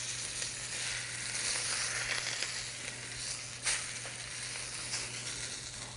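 Steak for Steak Diane, cut square and stood on edge in a hot skillet, sizzles and fries steadily at close range with a brief louder crackle, no voices.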